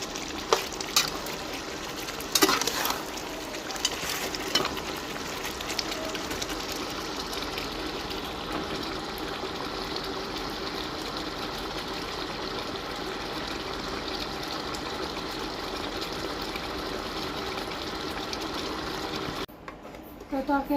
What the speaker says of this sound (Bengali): তো তরকারিতে আমি পরিমাণ মতো জল দিয়ে দিলাম। তো এবার ভালো করে নেড়ে দিচ্ছি